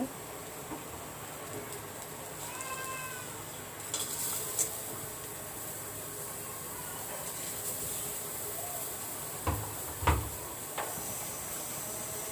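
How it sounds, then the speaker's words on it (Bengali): Green chillies and onions cook in a wok for a banana flower chorchori. There is a steady, faint sizzle with occasional scraping clinks of a spatula stirring against the metal. "এবার আমি পেঁয়াজ দিয়ে দিব"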